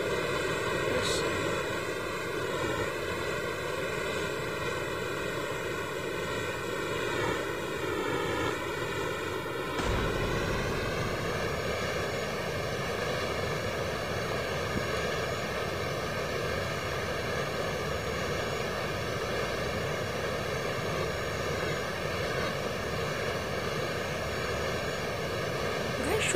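The Jackal plane in Call of Duty Mobile drones steadily with a constant engine tone that shifts in pitch partway through, loud and continuous for the whole stretch.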